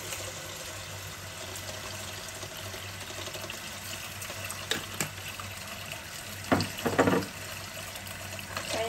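Water runs into a pot of salted clams set to soak, a steady gushing pour in a kitchen with a few louder splashes near the end.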